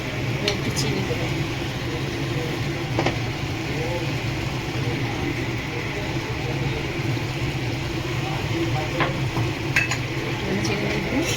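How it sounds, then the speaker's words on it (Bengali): Mutton kosha stir-fried over a high gas flame in a pan, a steady close sizzle broken by scraping stirs, with a voice talking over it throughout. "ভালো করে কষিয়ে ফিরছি।"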